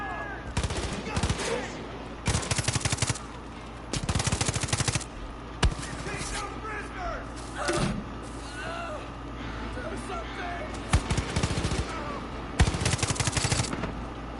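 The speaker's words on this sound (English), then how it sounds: "They're trying to suppress the fire and keep me down." Suppressing gunfire in the shooter game Far Cry 5, repeated bursts of automatic weapon fire over a steady background battle rumble, with some voice chatter underneath.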